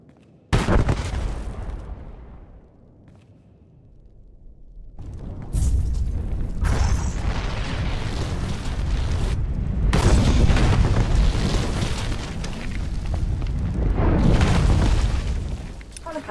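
A bomb goes off in a Star Wars game on Corellia: a sharp loud blast that decays into a low rumble, then a heavy roaring burst of explosions that stays loud and sustained to the end.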